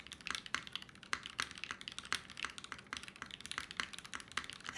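Quick, crisp keystrokes on a Mode Sixtyfive mechanical keyboard fitted with a brass plate and plate foam, clacking close to the mic in a steady run of taps with no talking.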